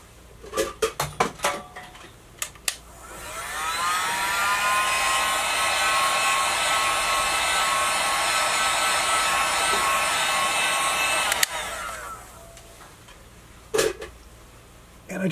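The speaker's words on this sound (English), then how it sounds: "And I just used a blow dryer just a touch to dry off just a little bit." A few sharp clinks, then a blow dryer whirs up and runs steadily for several seconds drying watercolor paint before switching off, followed by light knocks.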